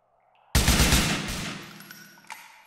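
Gunfire in the video game Grand Theft Auto IV, a sudden loud burst of rapid automatic shots that rings out and fades, then a single fainter shot.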